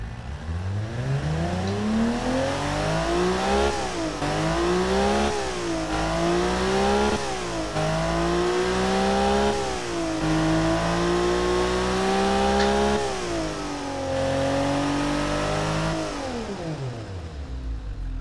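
Video game inline six engine with variable valve timing revving up and down repeatedly, tractor-like, pitch climbing and dropping in steady waves, loud and continuous for the whole stretch before winding down at the end.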